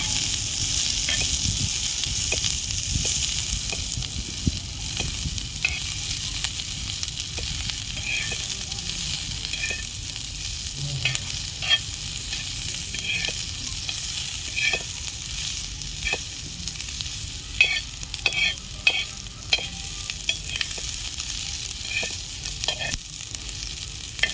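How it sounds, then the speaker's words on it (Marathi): Chopped onion frying in a pan for Indian egg curry, a steady broad sizzle running throughout with scattered scraping clicks from stirring, close and fairly loud, no talking. "आणि आता मी कांदा टाकलाय. तर हा कांदा लाल होईपर्यंत भाजायचा"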